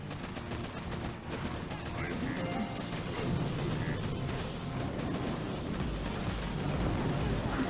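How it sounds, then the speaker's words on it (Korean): Boosted cannon shots in the Boom Beach mobile strategy game, a string of booming blasts and crashing impacts amid battle noise, with someone talking over the fighting. "강화대포 날라와요"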